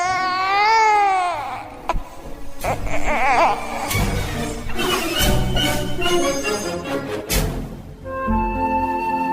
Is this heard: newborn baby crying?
yes